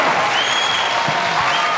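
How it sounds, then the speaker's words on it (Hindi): Studio audience at a Pakistani television comedy talk show clapping in a sustained, dense burst of applause, fairly loud and even, with no voices on top. "ये जो आप अभी बजा रहे थे वो तालियां थी।"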